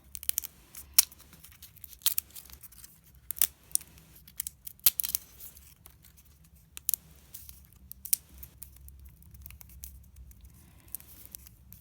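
The thin outer skin of an avocado seed is peeled off by hand, producing sparse, sharp crackling snaps and tearing ticks at uneven intervals over near silence, close and soft.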